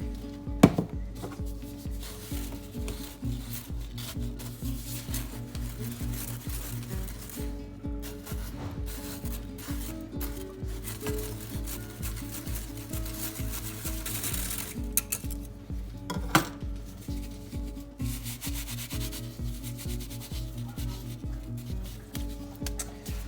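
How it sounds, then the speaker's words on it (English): Citric acid being sifted through a handheld sifter for bath bombs, a steady rhythmic rasping and scraping that repeats quickly and evenly, close and fairly quiet, with a few sharper knocks. "So I've measured out my citric acid here, and now I'm going to put it in my sifter"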